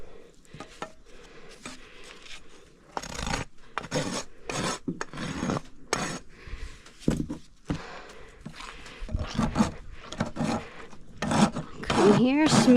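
A rasp files across a horse's hoof wall on a hoof with a toe crack, in several short, uneven gritty strokes with gaps between them, close by and fairly quiet.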